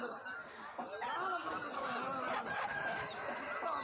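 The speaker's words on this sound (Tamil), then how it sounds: "பாருங்கள், இந்த சேவல் மயில் கருப்புங்க." A tall, large black pedu rooster at a village market, with clucking and crowing-like calls over busy crowd chatter and someone talking nearby.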